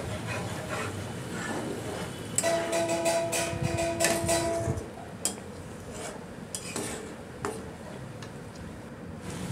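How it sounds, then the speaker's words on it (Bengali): Chicken curry with ground peanut paste is stirred in a pan, giving close scraping and rubbing of a spoon along the bottom with a few light clinks, steady and without speech. "যেহেতু বাদাম আছে নিচে একটা লেগে যাওয়ার ব্যাপার থাকে, তাই জন্য এটাকে বারে বারে নাড়তে হবে নিচ থেকে"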